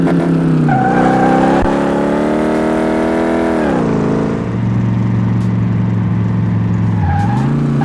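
A car in Car Mechanic Simulator 2018 squeals its tires as the tail slides out, over a loud, continuous engine drone that rises and dips with the revs.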